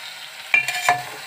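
A close, steady sizzle of frying chili curry in a pan, broken by two quick scraping strokes of a spoon stirring the mixture.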